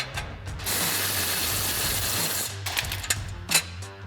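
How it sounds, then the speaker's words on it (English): A ratchet backs out the 16 mm bumper bolts on a Jeep Wrangler JL, a steady run of close, rapid clicking for about two and a half seconds, then a few short bursts and knocks as the bolt frees. "remove the 2 16 millimeter bolts"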